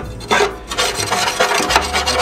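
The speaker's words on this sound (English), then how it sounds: "scrape this stuff up" A gardener's shovel scraping residue off a barbecue grill, a close, loud, rough rasping in a few repeated strokes.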